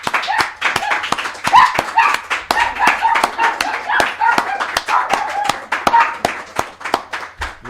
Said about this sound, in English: The applause is for you. The applause is for us.